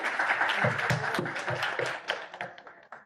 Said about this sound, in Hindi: ये जो तालियां भी बजा रहे हैं